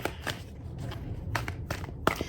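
Tarot cards being shuffled by hand, with several soft, papery riffling bursts at an uneven rhythm, fairly close but quiet over a low background hum.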